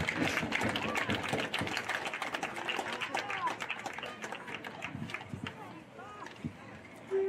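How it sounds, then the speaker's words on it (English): An audience of parents, guardians and grandparents at a youth football event gives a sustained round of applause, a dense crackle of many hands with a few voices mixed in, tapering slightly toward the end. "Let's give them all a nice round of applause"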